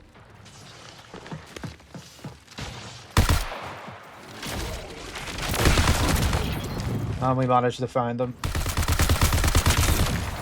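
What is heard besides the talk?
gunshots in a video game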